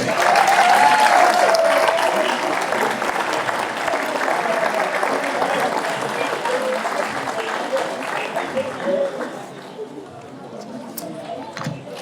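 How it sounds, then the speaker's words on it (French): A crowd claps for an enduro mountain-bike podium, with steady applause and cheering mixed with chatter that fades toward the end. "Et vos applaudissements s'il vous plaît"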